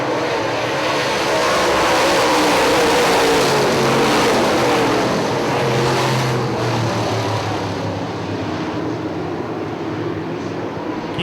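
UMP late model race cars roar together under green-flag acceleration at Hartford Speedway Park, a dense, loud, continuous engine drone that swells and holds without pause.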